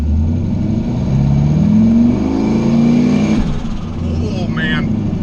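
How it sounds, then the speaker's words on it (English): A turbocharged LS-swapped Mustang idles loudly then revs up on the trans brake, engine pitch rising steadily as boost builds, close and dominant before settling, with a voice speaking briefly near the end. "It went to 8 pounds of boost with like 2 seconds on the trans brake."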